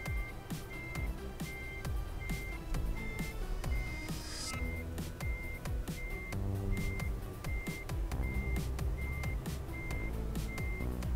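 In Euro Truck Simulator 2, a truck reverses with a steady run of evenly spaced reversing beeps over a constant engine rumble, with no talking.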